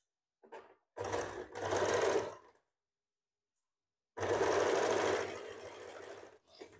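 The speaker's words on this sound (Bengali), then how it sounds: "এখানে একটা সেলাই করলাম" A sewing machine stitches a sleeve joint on a garment, with a short rattle, then a close run of about a second and a half, a pause of silence, and a longer steady burst of motor whir.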